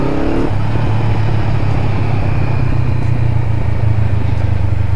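A Honda CB500F motorcycle ridden along a road near a grotto, its steady engine drone and wind rumble holding loud and close throughout, with no voices.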